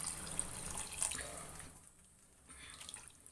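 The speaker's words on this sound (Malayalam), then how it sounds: "ഞാൻ കുറച്ചും കൂടി വെള്ളം ചേർത്ത് കൊടുക്കുന്നുണ്ട്" Water trickles and splashes faintly into a pot of Kanambu mullet fish curry with mango as it simmers on the stove, a short, quiet pour that fades after about two seconds.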